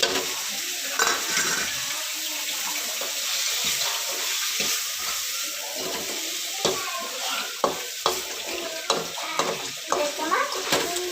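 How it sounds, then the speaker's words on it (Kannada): Two spoons of lentil sambar powder roasting in a pan, stirred continuously, make a soft steady sizzle broken by frequent scraping and tapping of a spoon against the pan, close and without talk. "ಬೇಳೆ ಸಾಂಬಾರು ಪುಡಿ 2 ಸ್ಪೂನ್ ತಗೊಂಡಿದ್ದೀನಿ. ಇದನ್ನು ಹಾಕಿ ರೋಸ್ಟ್ ಮಾಡ್ಕೊಳ್ಳಿ."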